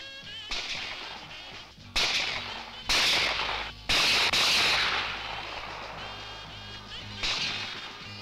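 Shotguns fire during a pheasant hunt in the Czech countryside, five or six loud reports spread over several seconds, each one sharp with a long echoing tail.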